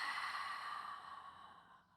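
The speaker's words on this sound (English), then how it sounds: "and then we exhale" A soft, breathy exhale during a hip strength and mobility exercise, one long airy breath fading out over about two seconds, close and quiet with no talking.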